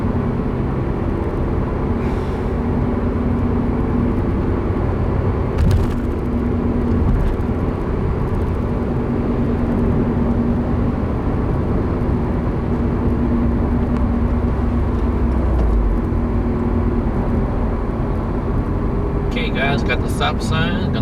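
A 2015 Subaru WRX with a stage 1 tune accelerating hard, heard as a loud, steady cabin drone of engine and road noise with a low tone climbing near the end, a voice speaking over it.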